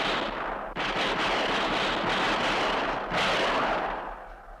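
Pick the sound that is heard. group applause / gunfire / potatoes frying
gunfire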